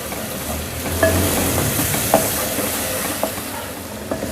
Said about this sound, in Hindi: इसमें डाल देंगे 1 टेबल स्पून भरकर लहसुन अदरक का पेस्ट। इसको चंद सेकंड भून लेंगे।